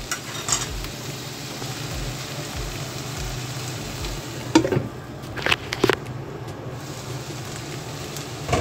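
Bitter gourd frying in a pan with oyster sauce and egg, a steady soft sizzle running throughout with a few brief scraping stirs and clinks near the middle.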